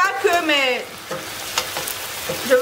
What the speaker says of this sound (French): Maintenant ici, je vais faire frire un peu